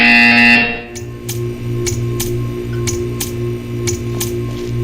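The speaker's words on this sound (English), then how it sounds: "When you hear the buzzer, stare at the art." In the video game Portal 2, a short high electronic tone cuts off, then a low buzzer drones steadily while sharp clicks tap out at an irregular rhythm.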